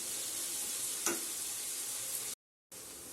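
Onions, ginger, garlic and green chilli sizzle in a pan for an egg roast, a steady close frying hiss that briefly cuts out near the end, with no talking.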